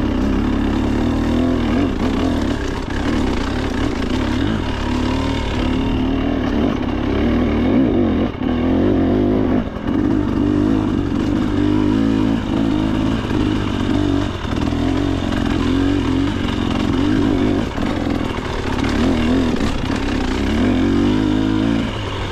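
A dirt bike engine revs hard and continuously on a steep trail hill climb with a held wheelie, loud and close throughout, its throttle rising and falling without pause and with no talking.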